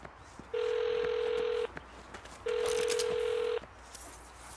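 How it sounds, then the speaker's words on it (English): Two steady telephone tones from an in-game phone call in the 2022 Saints Row video game, each lasting about a second with a short gap between them, clear over quiet background game ambience. "Let's call the number on all those billboards and find out."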